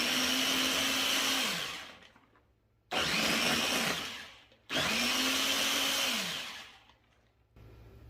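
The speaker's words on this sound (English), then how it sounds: "I'm just going to blend it for like 2 minutes." A Ninja blender blends a smoothie with honey in three loud, close bursts: the motor roars up, holds, then winds down, with short pauses between runs.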